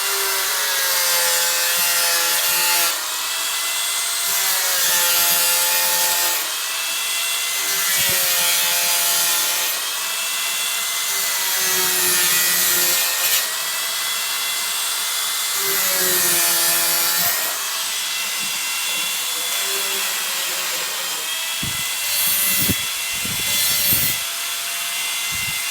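A hand saw cuts a marked piece to length for fitting a wall-mounted closet, the strokes coming in a steady back-and-forth rhythm of rasping pulls, close and loud, with brief pauses between bursts.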